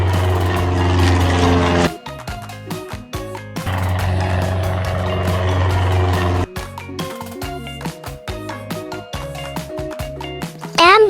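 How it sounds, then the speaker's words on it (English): An airplane's steady, droning engine roar plays in two loud bursts of a few seconds each, with light music filling the gaps between them. "Airplane."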